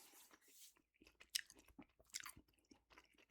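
Close, quiet gum chewing with moist smacking and soft clicks in an irregular rhythm, recorded intimately for ASMR with no talking.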